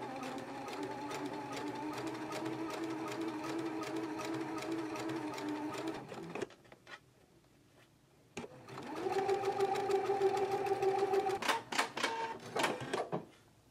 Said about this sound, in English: now I'm going to go ahead and stitch the loop